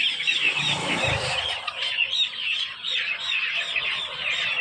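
Fancy chicken chicks chirp in a busy, overlapping chorus of high peeps, fairly close and continuous, with a brief low thump near the start.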